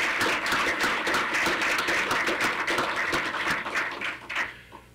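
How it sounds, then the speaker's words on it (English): Audience at a university faculty council meeting giving a hearty round of applause, a steady burst of many hands clapping that thins and fades out near the end, with no talking. "I think we all owe them a hearty round of applause for that work"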